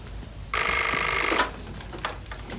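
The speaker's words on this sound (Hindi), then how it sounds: "फोन" A telephone bell rings in one continuous electronic burst lasting about a second, loud and close against a quiet room, then stops, followed by faint background noise.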